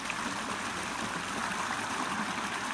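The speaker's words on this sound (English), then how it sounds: "this whole river, or stream as it's called here, it's just amazing" A river, locally called a stream, flows steadily at night in China, a continuous broad rushing and trickling wash of water that stays even and fairly close throughout, with no voices.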